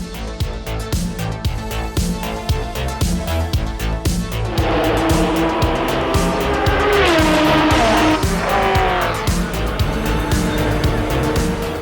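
A Porsche 956/962 endurance race car from the 1980s drives past loudly, its engine roar steady with rising and falling revs and tire noise over music.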